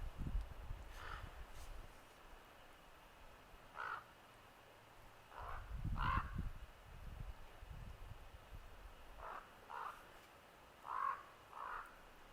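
Crows caw outdoors in winter, around seven or eight harsh single calls at uneven intervals that sound moderately distant, over faint wind and low rumbling noise.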